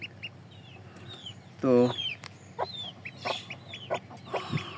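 Hen with a newly hatched black chick on a poultry farm: soft clucks and high chick peeps scattered through the clip, with one louder cluck and quiet talk alongside.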